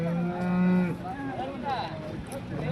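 At a cattle market, a cow gives a loud, close moo followed by further lowing calls, with faint crowd noise in the background.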